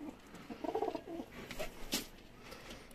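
Migrant pigeons perched on rooftops at a Lahore pigeon sale coo softly in a few low, rolling bursts, with faint background noise and scattered brief sounds.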